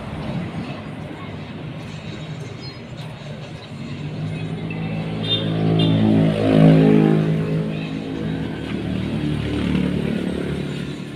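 A Yamaha Mio scooter engine idles after being switched on, with a steady close rumble that swells briefly in the middle. Someone talks over it.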